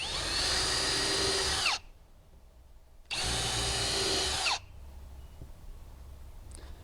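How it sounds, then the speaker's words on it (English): A power drill with a 1/8 inch bit pre-drilling decking boards whirs at high speed in two bursts of about a second and a half each, with a quiet pause between, close by. "So I'm going to use a 1/8 inch drill bit."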